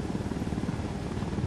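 Helicopter rotor chop from a chopper setting down close by in the video game Ghost Recon Wildlands, a steady low pulsing drone that holds at even loudness throughout with no voices.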